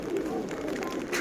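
Giribaz racing pigeons coo in a soft, steady, low murmur that runs without a break, with faint voices in the background.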